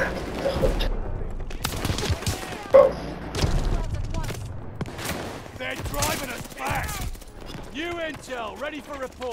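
Rapid gunfire bursts in Call of Duty: Vanguard multiplayer, sharp repeated shots with a loud crack near the start, mixed with game effects and players talking over the action.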